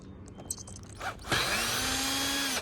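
A power drill buzzes up and spins steadily for about a second and a half while driving screws during a Camaro convertible top replacement, preceded by small clicks and handling noises.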